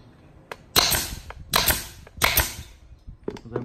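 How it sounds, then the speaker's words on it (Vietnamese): A U Total staple gun drives staples into wooden boards in three sharp, loud snapping shots, each followed by a brief rattle, with small clicks of handling between them. "Rồi em có bắn thử lối mấy cái thanh gỗ này với nhau, thấy khá là cứng đấy, cứng chắc luôn."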